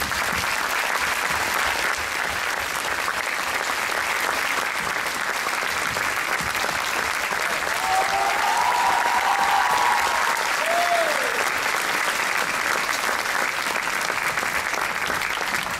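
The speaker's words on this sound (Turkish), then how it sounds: "değerli hocamız Şamil Taşkın'ı büyük alkışla sahneye davet ediyoruz" A large audience at a Circassian association dance show in Ankara claps steadily and loudly as a teacher is welcomed on stage, with a faint voice underneath.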